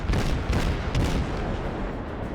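Warship main guns fire in a World of Warships naval battle, a cluster of heavy booming salvos rumbling close and loud, overlapping in quick succession before a fading low roar.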